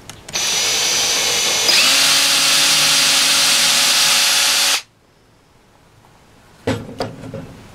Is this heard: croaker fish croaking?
no